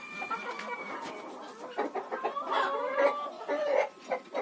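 Bantam chickens clucking in a rural Ukrainian farmyard at day's end, with repeated close, moderately loud clucks and short calls from several birds overlapping steadily throughout.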